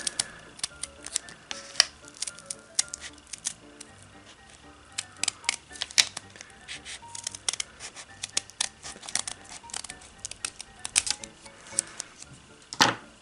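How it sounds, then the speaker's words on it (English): Scissors snip through paper in short irregular clicks and crisp cuts, close by, with occasional rustling of the sheet between snips. "just take your scissors and just start cutting along that line"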